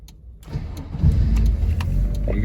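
A 2005 MG TF 1.6 cranks briefly and fires up, then settles into a steady, throaty idle close to the microphone with no voices.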